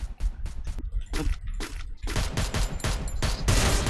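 Rapid gunfire bursts from a mobile shooter video game, loud and close, rattling in several quick volleys with brief gaps between them and growing denser toward the end.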